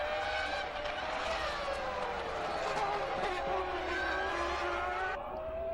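Formula 1 race cars from 1998, a McLaren running close behind a Ferrari, whine past continuously with high rising and falling engine tones over a steady crowd and broadcast background, while a commentator speaks throughout.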